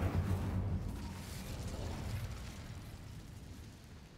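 An Incendio fire spell cast in Hogwarts Legacy, heard as a soft, rumbling whoosh of flame that bursts at the start and slowly fades away over a few seconds, with no talking.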